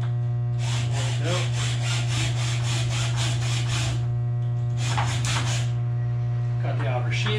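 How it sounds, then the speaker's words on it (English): Outer casing being stripped off electrical wire during a breaker panel install: rough scraping and rubbing in two bursts, close up, over a steady low electrical hum. "now we're going to strip the casing off the wire, get ready to enter into the panel."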